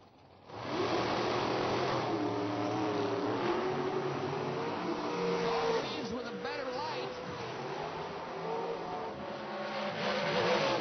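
A 2000 drag race car with a 584 cubic inch Chevrolet motor roars loudly at a drag strip, a sustained heavy engine drone with shifting pitch, while an announcer talks over it.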